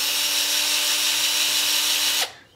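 A capstan winch driven by a ratchet tool on a worktable sawmill spinning very fast: a loud, steady high-pitched whirring motor drone held for about two seconds, then abruptly cutting off and winding down.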